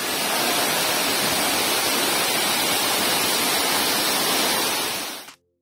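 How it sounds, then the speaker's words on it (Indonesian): A waterfall in the rainforest section of a zoo roars as a dense, steady rush of falling water, loud and continuous for about five seconds before cutting off abruptly. "dan pastinya ada suara air terjun"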